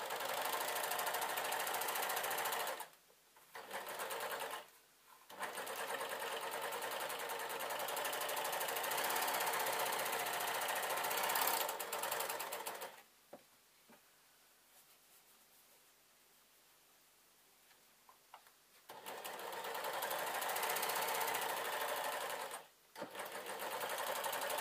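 A serger stitching around pieces of a denim skirt, running in long loud bursts with short pauses and one longer quiet stretch between runs, close and steady, no talk.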